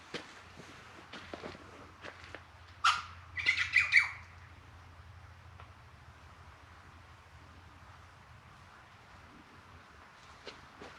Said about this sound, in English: You can hear the birds out here as well.